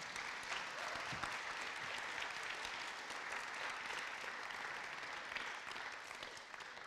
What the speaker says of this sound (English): let's give another round of applause for Stephanie